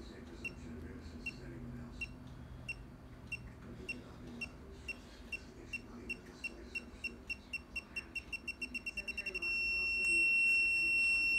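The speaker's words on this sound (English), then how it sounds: "Yes, you are hearing beeping." Electronic beeps from a Men in Black-style toy smartgun repeat at a steady pace, then speed up into rapid beeping and a continuous tone, with faint background noise.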